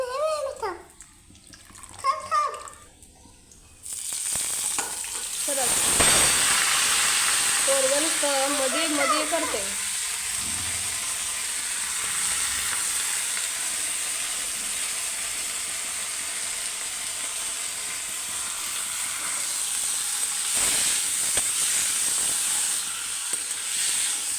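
Vegetables hit a pan of roasted garlic and break into a loud, steady sizzle that carries on evenly for about twenty seconds, after someone briefly speaks at the start.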